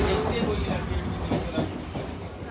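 Train at CST railway station in Mumbai, a steady rumble of rail noise with faint clatter and station ambience beneath scattered voices.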